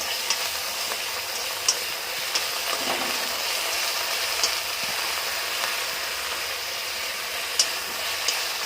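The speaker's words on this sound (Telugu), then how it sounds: "టమాటో సాసు అన్నీ వేసుకున్నాక ఇలా ఫ్రై చేసుకోవాలి." Masala with tomato sauce fries in a pan for a gobi dish, making a steady, close sizzle with faint stirring clicks throughout.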